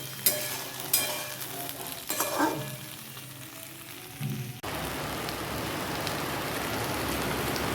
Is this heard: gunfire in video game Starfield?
no